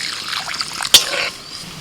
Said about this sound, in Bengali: একটু নাড়াচাড়া করে জল দিয়ে দিলাম